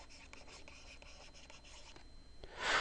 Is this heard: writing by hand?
yes